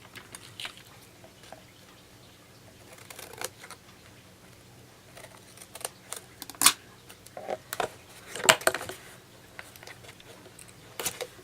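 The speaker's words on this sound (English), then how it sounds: "all we're going to do is cut those V's out again" Scissors snip V notches out of paper in a few short, sharp cuts, quiet and close, with small rustles between them.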